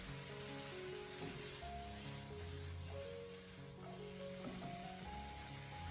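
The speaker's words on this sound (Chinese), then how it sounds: "开大火将它翻炒1分钟左右，将所有食材给它翻炒均匀" Bamboo shoots and pork stir-fried over high heat in a wok with a splash of cooking wine, giving a steady, close, loud sizzle with faint stirring scrapes running throughout.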